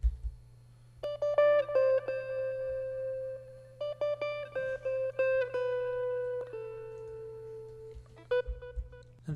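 A sampled guitar melody processed with EQ, reverb and a short delay in FL Studio, plucked notes ringing in a steady phrase over a constant low hum, with no voices.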